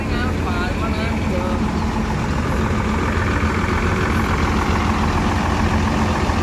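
Long-distance Banda Aceh to Bandung bus idling at a ticket stop in Palembang, a loud continuous low engine rumble filling the scene while people talk nearby.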